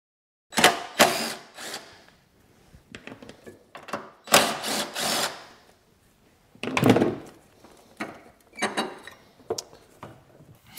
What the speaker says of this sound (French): on prend une visseuse à percussion et une douille de 10 mm pour retirer les deux boulons